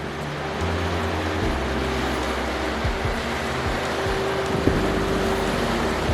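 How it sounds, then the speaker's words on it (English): Low motor drone of a boat passing on water in Kyoto, with a steady hum and shifting tones as it moves by, over constant wind and wash. "Here comes the boat again."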